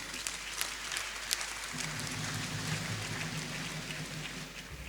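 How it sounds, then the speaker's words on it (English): Steady applause from the audience at a university convocation ceremony fills the whole stretch as a dense, even patter, with a low hum joining partway through. "Well, I believe that deserves an applause."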